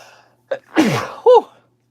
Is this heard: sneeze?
yes